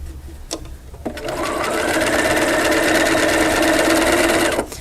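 A sewing machine runs a quilt seam for a double wedding ring block, starting after a couple of clicks and buzzing steadily and loudly for about four seconds before stopping.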